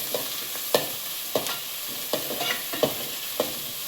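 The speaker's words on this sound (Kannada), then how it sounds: "ಆಯಿಲ್ ಮತ್ತು ಆನಿಯನ್ನು, ಸ್ವಲ್ಪ ಮೆಣಸಿನ್ಕಾಯಿ, 1-2 ಮೆಣಸಿನ್ಕಾಯಿ, ಆಮೇಲೆ ಜಿಂಜರ್ ಗಾರ್ಲಿಕ್ ಪೇಸ್ಟ್ ಹಾಕಿ ಚೆನ್ನಾಗಿ ಫ್ರೈ ಮಾಡ್ತಾ ಇದ್ದೀನಿ" Onion, green chillies and ginger garlic paste frying in oil for egg fried rice, a steady close sizzle broken by regular scrapes and clinks of a spoon stirring the pan every half second or so, with no talking.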